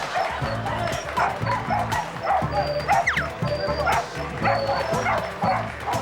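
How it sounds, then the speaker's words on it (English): A Labrador barks repeatedly in short yipping bursts during a live show, close and loud over a busy crowd backdrop with some chatter. "it's funny just watching him bark during the whole show"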